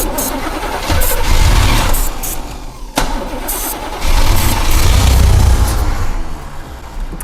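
An abandoned Camaro Z28 with a carburetor needing a rebuild cranks and fires, roaring into a loud rough idle, cutting out briefly near three seconds and then catching and revving again.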